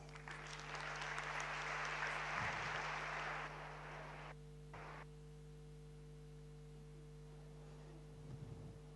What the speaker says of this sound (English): So please let's give Leila a warm applause.